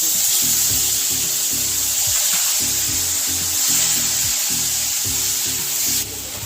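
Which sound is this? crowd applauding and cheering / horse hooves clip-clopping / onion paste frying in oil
onion paste frying in oil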